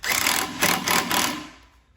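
Socket wrench with an 8 millimeter socket tightening intercooler hose clamps on a Fiat 500 Abarth, a few quick ratcheting bursts close up that fade out near the end, no talking.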